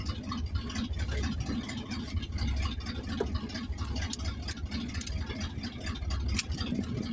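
A 1984 El Camino engine idles with a choppy cam, a low uneven rumble pulsing steadily and close up, with no talking.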